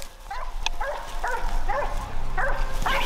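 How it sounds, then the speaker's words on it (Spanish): Several hunting dogs bark and yelp in a quick, irregular series over a low outdoor rumble during a wild boar hunt, fairly close, with no speech. "En el puesto de Diego y Luisa nos sorprende un jabalí que venía zorreado de los perros."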